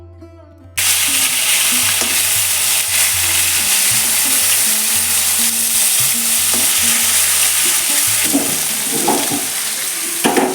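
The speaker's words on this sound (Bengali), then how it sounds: "মাছগুলা ভাজা হয়েছে কিনা দেখি" Fish sizzles loudly in a hot pan in a home kitchen, a steady crackling fry with occasional scraping and stirring clatter, starting abruptly and continuing without talk.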